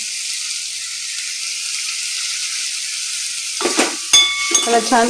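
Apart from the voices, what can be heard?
capsicum and besan bhaji sizzling in the pan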